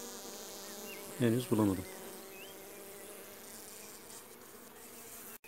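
Honey bees buzzing steadily around an opened hive during inspection, a faint continuous hum with a man's short spoken remark over it.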